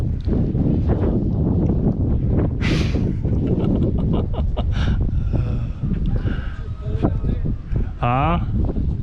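Strong wind buffets the microphone on a fishing pier at Royal Palm Park, a constant heavy rumble and roar, with voices talking under it.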